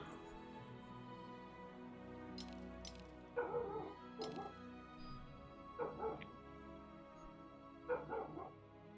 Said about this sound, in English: next door's dog barking in the background